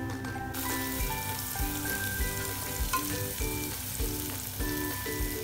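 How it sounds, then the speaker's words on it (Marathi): Onion hitting hot oil already crackling with ginger-garlic paste and curry leaves, a steady close, loud sizzle with bursts of spattering and stirring, no voices. "आता याच्यात कांदा टाकून घेऊ."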